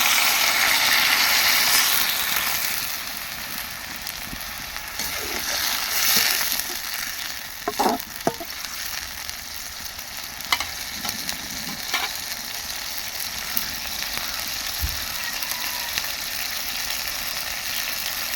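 Beef tripe fries in a pan that has scorched at the edges, giving a loud continuous sizzle with scraping stirs and occasional clinks, fading a little partway through.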